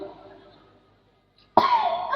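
After a quiet pause, a single sudden, harsh human cough bursts out close by, followed by a rough, strained vocal rasp.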